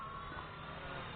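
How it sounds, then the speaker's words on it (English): A radio-control transmitter for a WLtoys helicopter gives a short electronic beep as it switches to high rate, faint and close, over a steady low hum. "I switch the transmitter into high rate. You hear the double beep"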